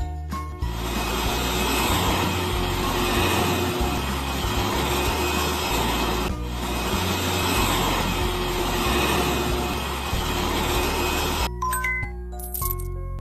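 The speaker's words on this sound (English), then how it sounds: "Now let's vacuum the floor!" A cartoonish vacuum cleaner drones steadily across the floor of a doghouse room in the kids' cleaning game Sweet Baby Girl CleanUp 5, a continuous rough whir that cuts off abruptly near the end.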